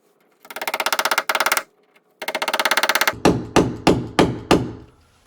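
Two bursts of rapid mechanical buzzing, then five sharp, evenly spaced knocks as a screwdriver handle firmly taps wall anchors into a wall, close and loud.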